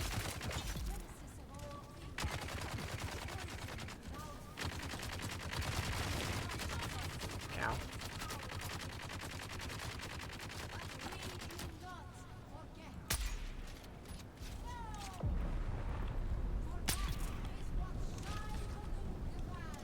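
Heavy weapons fire in the Dune Awakening video game, bursts of rapid shots and booming blasts repeating over about twenty seconds amid game sounds, with a player speaking at times.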